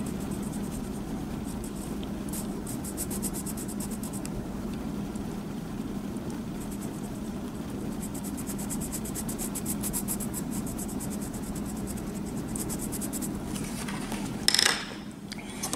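Holbein colored pencils scratching and rubbing across paper in steady, close strokes, a continuous soft rasp under a low background hum, with a brief louder rustle near the end.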